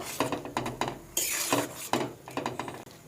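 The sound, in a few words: stirring cauliflower dal in a pot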